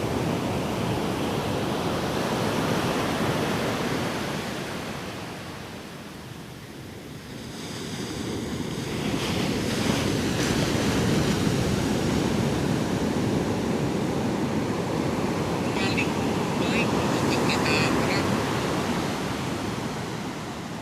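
Steady roar of surf at Krui beach, broad and continuous with swelling and easing waves, some wind buffeting the microphone, and no talking.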